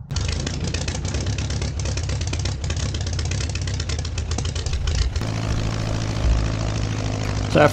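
A small propeller aircraft engine warming up at 0°F drones steadily close by, its rough throb shifting to a deeper, smoother hum partway through.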